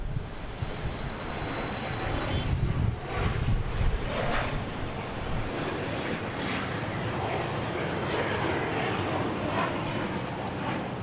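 Etihad airliner on runway 22 Left at Boston Logan Airport, a steady loud roar of jet engines spooling and rumbling throughout, broad and continuous with no voices.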